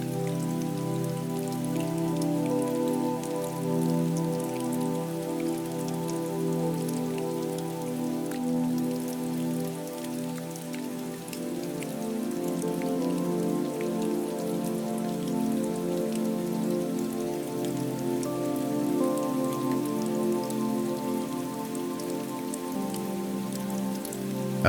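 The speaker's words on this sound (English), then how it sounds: "Outside, the rain continues drifting across the gardens and pathways surrounding the greenhouse." Steady rain falling over the gardens and pathways outside a Victorian greenhouse, a dense, even patter and wash of drops that holds at a constant loudness throughout, with no voices.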